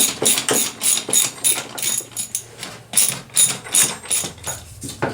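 Two-piece aircraft wheel halves are taken apart with a ratcheting tool, making repeated bursts of metallic clicking with short pauses between strokes, loud and close, with no talk.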